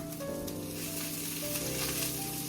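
Garlic and the rest of the parsley sizzle steadily in hot oil in a pan, a continuous close frying hiss with low background hum and no talk.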